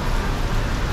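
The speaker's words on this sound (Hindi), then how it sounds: "इतनी तेज़ और इतनी बढ़िया बारिश है" Heavy rain pours in a dense, loud, even hiss, continuous and close, with no voices.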